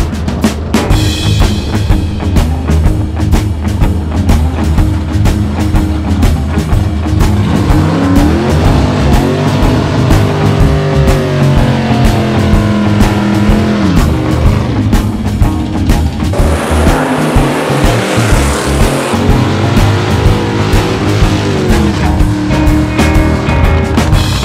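Drag race cars at a dragway starting line, engines roaring loud and continuous with revving rises and falls, a burst of tire noise partway through, and no talk.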